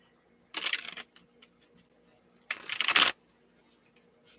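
Two short bursts of tarot cards riffling and slapping together, with soft handling noises in the quiet gaps between.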